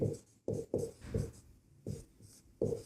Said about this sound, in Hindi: यहाँ लिखते हैं हल